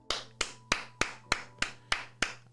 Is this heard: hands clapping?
yes